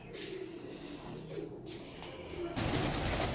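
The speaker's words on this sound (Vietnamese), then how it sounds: "chuồng chim bồ câu nhà mình đấy" Pigeons coo softly inside a home pigeon coop, low murmuring calls under faint background noise, ending in a louder burst of rustling or wing flapping.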